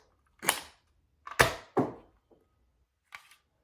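Darts fire from a Nerf Elite 2.0 Trio SD-3 blaster: three sharp, close pops in quick succession, followed after a pause by a fainter fourth snap.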